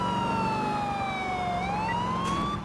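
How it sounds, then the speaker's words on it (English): A police car siren in Grand Theft Auto IV on Xbox 360 wails steadily and loudly, its pitch falling slowly then rising again, over a constant engine and traffic rumble. "Turn the siren off"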